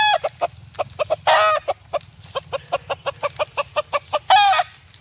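A rooster and chickens at a school arts festival stage, with a rapid series of sharp clucks and two loud, drawn-out crows standing out over a steady low hum, close and clear with no talking.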